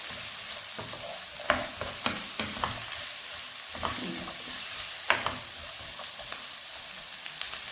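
Carrots, green beans and other vegetables sizzle as they stir-fry in a pan for fried rice, with soft crackling broken by several sharp clacks and scrapes of a wooden spoon and the pan being moved.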